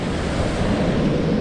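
Steady sea surf washing and breaking along the shore, with wind buffeting the microphone; a continuous broadband rush with no voices.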